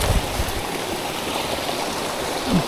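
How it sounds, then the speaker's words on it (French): A small waterfall on a hillside in the Cézallier volcanic highlands of France, a steady broadband rush of falling water heard close and continuous, with a few faint knocks at the start. "Une mini cascade."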